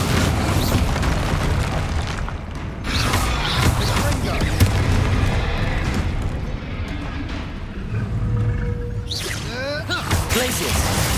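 Bombarda spell blasts in Hogwarts Legacy combat, a series of booming explosions and whooshes layered over game music and effects, with a voice calling spells between them.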